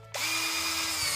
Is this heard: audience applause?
no